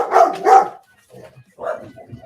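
Dogs in a household bark loudly in two quick bursts, then after a short pause come fainter yips and a final bark, close to the microphone.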